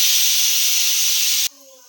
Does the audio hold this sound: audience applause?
no